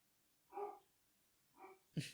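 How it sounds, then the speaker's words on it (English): A dog barks faintly in the background, indoors: two muffled barks about a second apart, then a brief sharper sound at the end, with no talking. "My dog's barking."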